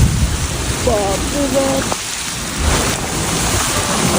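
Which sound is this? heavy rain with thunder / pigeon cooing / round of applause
heavy rain with thunder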